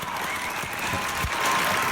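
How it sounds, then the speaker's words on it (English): An arena audience claps and cheers in a dense, continuous burst that swells slightly toward the end, with no single voice standing out. "Applause and cheering."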